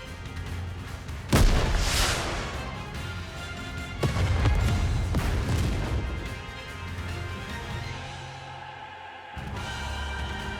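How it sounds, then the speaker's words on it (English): A big fiery explosion in the video game Goddess of Victory: Nikke, a loud booming blast followed by crashing bursts and rumbling artillery-like impacts over game music, with no talking. "What an explosion!"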